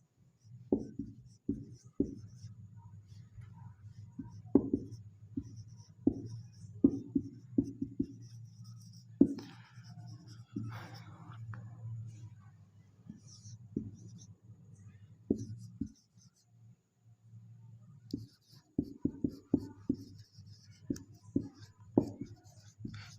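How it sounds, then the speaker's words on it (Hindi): Chalk or marker scratching out two sentences on a classroom board, a run of short strokes and taps close by, pausing midway then resuming, over a low steady background hum. "मैं आपके सामने 2 वाक्य लिखता हूँ"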